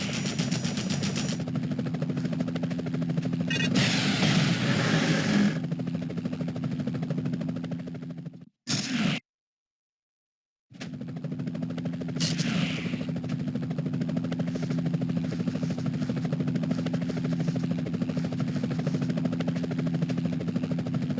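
Helicopter pursuing Spider-Man in the 2000 Spider-Man video game, rotor drone and rapid machine-gun bursts firing continuously and loud, cutting out briefly to silence midway before the chopper noise and gunfire resume.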